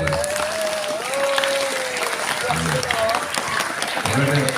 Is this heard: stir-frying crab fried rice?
no